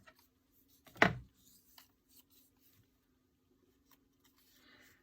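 A single sharp snip rings out close by as pink card is cut into rows for a Project Life scrapbook album, followed by near silence with faint rustles.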